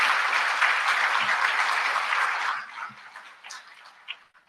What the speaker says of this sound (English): please show him your appreciation through a round of applause